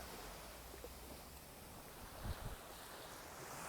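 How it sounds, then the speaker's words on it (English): Surf breaks against coral formations at Playa Chiquita beach in Sosua, Dominican Republic, a steady wash of ocean noise with wind buffeting the microphone and a brief heavier crash midway, faint and distant. "the waves crash pretty hard on these coral formations here"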